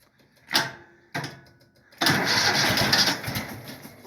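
A Cub Cadet mower's Yanmar diesel engine is started cold with the choke on. Two short cranking bursts come first, then the engine catches and settles into a loud, rough, steady run close by.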